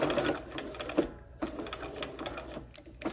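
A sewing machine runs close up, back stitching a quilt block, with a steady whirring drone that pauses briefly near the middle and then resumes.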